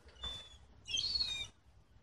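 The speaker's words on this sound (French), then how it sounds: "Oh, on entend une mouette là." Two short, high-pitched gull calls, the second longer and louder, sound faintly against quiet background.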